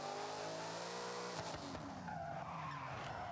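A car doing donuts in Forza Horizon 6, with tires squealing and skidding over a continuous engine drone, a shift in pitch partway through, steady and fairly faint.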